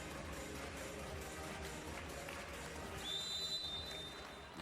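Referee's whistle before a serve at a women's Volleyball Nations League match, Netherlands against the Dominican Republic: one long, steady shrill blast rising out of a loud arena crowd.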